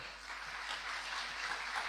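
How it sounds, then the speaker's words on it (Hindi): An audience claps at a government event in Uttarakhand as officials from the irrigation department are called forward, a short, fairly faint wash of steady applause with no voices. "तालियों के साथ जरा"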